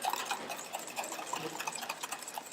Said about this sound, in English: Give it a little bit of a whisk.